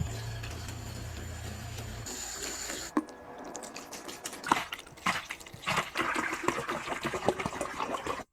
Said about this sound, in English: Water's all drained now.